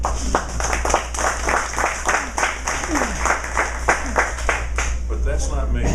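An audience claps steadily at a Downtown Houston Pachyderm Club event. The applause is loud and dense, with rhythmic bursts that continue without a break and fade slightly toward the end.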